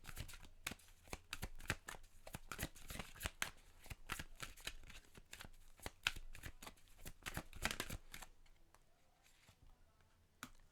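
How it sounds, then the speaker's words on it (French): Oracle cards shuffled by hand in quick, crisp riffling bursts, close and fairly quiet, continuing for several seconds before tapering into near silence. "On va aller chercher maintenant les cartes d'oracle."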